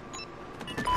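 Short electronic beeps from a video game as a bomb is planted, sounding as a few thin tonal bleeps over a busy game soundscape, with a steadier tone near the end.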